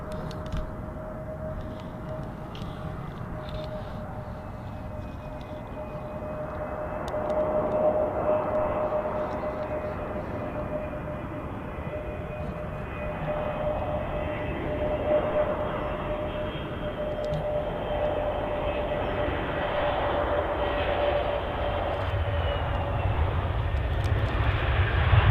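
An easyJet airliner at Manchester Airport roars steadily in the distance, a broad jet-engine rumble with a sustained whine that builds slowly over about twenty-five seconds, heard alone without speech.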